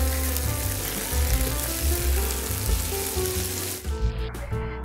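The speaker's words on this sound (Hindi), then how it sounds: "अब 2 प्याज हैं स्लाइस किए हुए, जिससे कि हमने हल्का सा लाइट ब्राउन करना है।" Two sliced onions frying in ghee in a pan while being lightly browned for a dhaba-style chana dal, giving a loud, continuous close sizzle that eases off briefly near the end.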